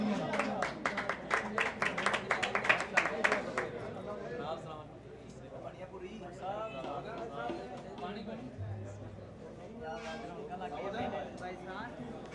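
Brief burst of clapping from an audience at an award ceremony fades after a few seconds into murmured chatter and a speaking voice.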